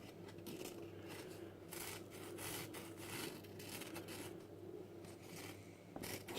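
Continuous dry rubbing and scraping as salt is worked off the roof of a Revell Volkswagen Samba bus plastic model kit, steady close-up friction strokes repeating along the surface with no talk.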